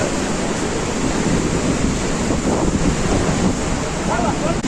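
River water rushes out between two stones by a Saraswati temple on a Char Dham pilgrimage route, a steady, loud, broadband roar with wind buffeting the microphone.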